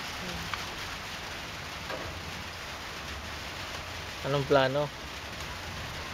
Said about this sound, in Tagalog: Lakas na ng ulan di oh.